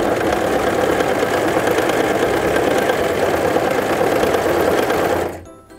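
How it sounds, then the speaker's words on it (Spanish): A Brother CV3550 sewing machine stitching steadily at close range, a dense, even mechanical whir running for about five seconds before it stops and fades away. "Luego presiona el pedal para comenzar a coser."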